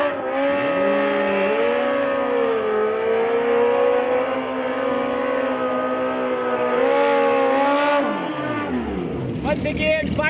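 A Kawasaki drag racing motorcycle launches at a Toronto drag strip with a loud, rising engine howl whose pitch sweeps up through the run while an announcer talks over it.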